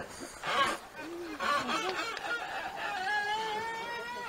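Chickens, with a white rooster among them, cluck in a poultry run with an outdoor range, giving short, irregular calls and squawks close by over a busy background.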